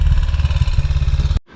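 A 1959 BSA motorcycle engine runs close and loud at a steady, throbbing idle for just over a second before cutting off abruptly.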